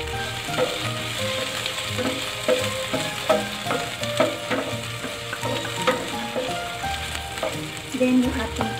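Ginger sizzles and fries in a pan for a pork monggo soup. The hiss is close and continuous, with the scrape and clatter of stirring breaking in at irregular moments.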